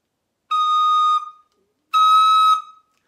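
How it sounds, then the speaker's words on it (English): Two shrill, piercing recorder tones from overblowing with air that is too fast, each held steady for roughly a second with a short gap between, loud and close with no talking. "If I use cold air that's too fast, I'm going to get a shrill sound."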